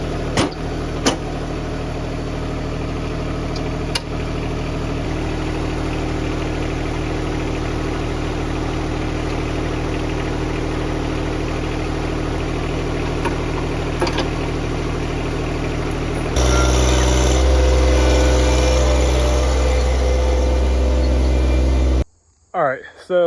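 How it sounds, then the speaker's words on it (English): A tractor engine idles steadily, hooked up to a tiller at a clover food plot, a continuous low mechanical drone that grows louder and rougher near the end before cutting out. "So let's go hook the tractor up to the tiller right now"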